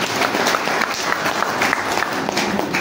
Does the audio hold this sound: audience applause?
yes